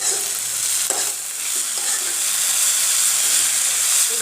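Nefafu greens (an Assamese leafy green) frying in a pan for bhaji, stirred now and then, give a steady broad hiss of sizzling oil and steam with a few soft scrapes, close and fairly loud, with no voices.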